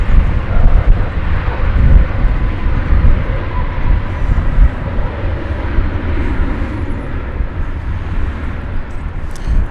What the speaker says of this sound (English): 1188 just touching down from Guatemala City after a 3-hour and 4-minute flight on that 737-800.